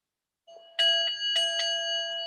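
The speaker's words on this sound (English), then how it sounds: "I'll ring the bell." A bell rings several times in a quiet room, giving clear resonant strikes with sustained ringing overtones that linger and overlap.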